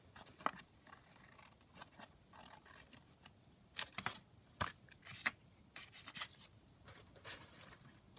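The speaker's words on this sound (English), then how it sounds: "Press that down and then just trim that off at the edge." Scissors trimming the edge of craft paper up close, a faint series of irregular snips and crisp cuts with light rustling between them.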